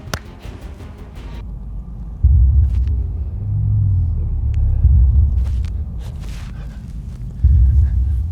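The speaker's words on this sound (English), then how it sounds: "Take a look at this Unimog. I'm going to take this off-road and put it through its paces." A Mercedes Unimog truck driving off-road, heard as a deep, loud, continuous engine rumble that swells and eases, with scattered higher knocks and clatter.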